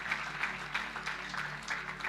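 Audience applause at a church gathering honouring a visiting pastor, a steady patter of clapping hands throughout, moderately near with soft swells and no voices over it.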